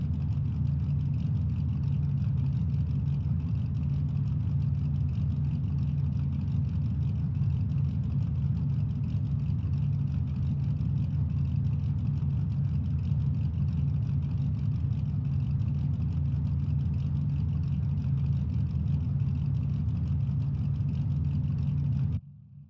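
Shelby Mustang GT350R race cars idling and warming up at the Willow Springs track, a steady, close, low engine drone holding constant for over twenty seconds before cutting off abruptly.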